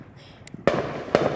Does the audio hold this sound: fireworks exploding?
yes